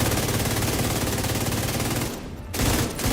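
Rapid automatic gunfire in The Division 2 shooter game, a loud, continuous rattling stream of shots that briefly drops out, then resumes.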